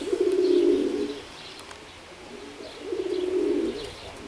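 Oriental Roller pigeons coo in a loft with two low, throaty rolling phrases, one near the start and another later, separated by a quieter stretch of soft background chirps.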